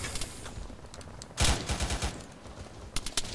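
Bursts of automatic gunfire in a military shooter game, with a loud cluster of rapid shots mid-way and a few sharper, quicker bursts near the end over a low rumble.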